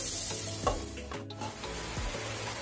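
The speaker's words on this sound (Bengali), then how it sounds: "এটা এই ঘিয়েতে আস্তে আস্তে সিদ্ধ হয়ে যাবে ফ্রাই করতে করতে" Pieces of raw papaya frying in ghee in a pan for halwa, a soft steady sizzle with a few stirring scrapes and clicks, fairly quiet and close, with no talk.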